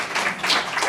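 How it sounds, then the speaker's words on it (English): An audience at a book talk gives brief, tepid applause: a moderate, even patter of clapping that swells slightly midway and continues without any voices. "By your tepid applause"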